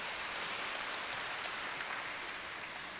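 A church congregation applauds a young speaker after his talk. The clapping is a faint, distant, even hiss of many hands that continues steadily with no voices.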